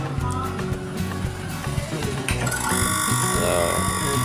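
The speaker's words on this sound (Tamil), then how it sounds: "மோட்டர் ஓட ஆரம்பிச்சிருச்சு." An electric water pump motor is switched on and keeps running, its wiring taped tight along the handle. It gives a steady mechanical whir with a ratcheting, clattering texture that grows denser partway through and sits close and fairly loud throughout.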